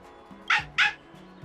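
Deeting, a dog in the video game Honkai Star Rail, gives two quick close barks over a faint background hum.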